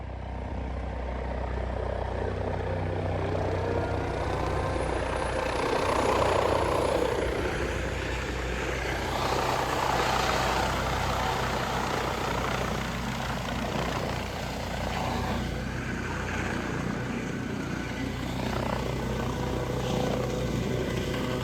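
A helicopter flies steadily overhead, its rotor and engine drone loud and continuous throughout, swelling slightly at times with broadband roar.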